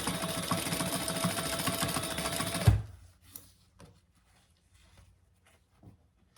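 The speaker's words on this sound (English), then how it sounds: "we're going to just sew the sides closed" Sewing machine stitching the sides of a clutch bag's interior lining closed, a steady rapid mechanical whir that runs for under three seconds, then stops abruptly, leaving faint handling clicks in near silence.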